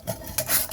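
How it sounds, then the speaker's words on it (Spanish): Sandpaper, 120 grit, rubbed across a shiny corrugated tin can with two quick raspy strokes, close and alone, no talk. "Vamos siempre a lijar"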